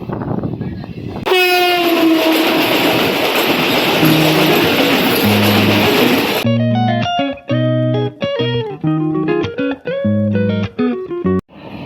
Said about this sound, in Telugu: ఏదో ట్రైన్ అయితే పాస్ అయిపోతుంది